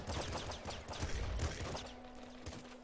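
Rapid bursts of powerful gunfire in Nuclear Throne crackle in a dense fusillade of overlapping shots, then thin out into a few scattered reports over a steady hum.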